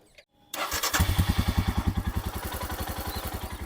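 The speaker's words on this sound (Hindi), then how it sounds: "अगर एग्जॉस्ट साउंड मैं आपको सुनाता हूँ तो वो भी आप सुन सकते हैं।" A 2023 Royal Enfield Himalayan 411 BS4 motorcycle cranks and fires up after a brief silence, settling into a loud, steady thumping idle with rhythmic exhaust pulses.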